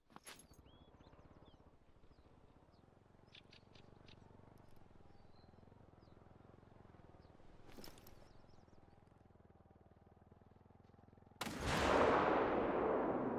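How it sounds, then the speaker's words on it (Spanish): A rifle shot in theHunter: Call of the Wild during a driven hunt in Hirschfelden: a softer, distant-sounding report midway over quiet outdoor ambience, then a loud, close blast near the end with a long rolling tail. "Dios, cómo se escucha el disparo"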